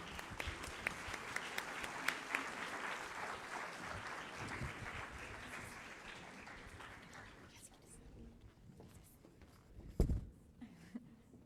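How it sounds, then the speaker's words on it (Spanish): Audience applause at a university research welcome event, a crowd clapping at a moderate level that gradually fades out, followed by a few isolated claps and a brief bump near the end. "Un aplauso"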